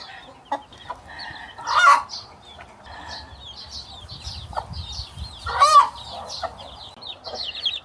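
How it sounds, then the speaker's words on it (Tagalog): Caged chickens on a farm cluck and squawk in short bursts, with two louder calls standing out over a steady background of farmyard noise. "May alaga pa palang manok dito."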